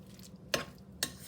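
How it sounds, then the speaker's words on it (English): Chopped fresh cilantro being stirred into taquito filling, two short scraping strokes of a spoon against the pan, close and fairly quiet with no talking. "So let's mix that cilantro in."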